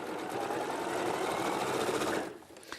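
A sewing machine stitches pairs of quilt patches in a steady, rapid whir that runs for about two seconds, then stops with the needle left down.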